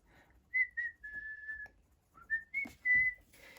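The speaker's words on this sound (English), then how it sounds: "So he's whistling a tune." A person whistles a short tune nearby, a string of clear sustained notes rising and falling with brief pauses between phrases.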